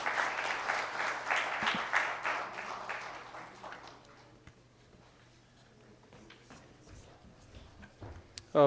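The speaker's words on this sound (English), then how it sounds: "I'll request for a big round of applause for the panelists." A conference audience applauds the panelists steadily, dense and loud at first, then thins out into scattered claps that gradually fade.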